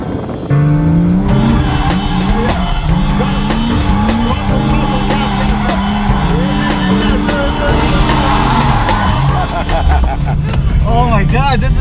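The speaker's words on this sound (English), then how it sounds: "350Z is one of the easiest cars to drift" A Nissan 350Z engine revs hard while tires squeal and skid through a drift, loud and close, with a voice speaking over it.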